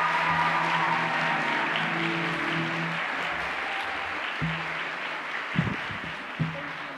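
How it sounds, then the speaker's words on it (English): A congregation at a Sunday morning Mass gives students a round of applause, a soft, diffuse wash of clapping from a church hall, with a few low thumps and bumps toward the end. "Now let's give all of our empowered students a round of applause."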